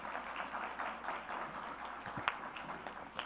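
Faint, distant applause from a conference audience on integral ecology: a soft, diffuse patter of many hands with a few sharper claps standing out, steady throughout.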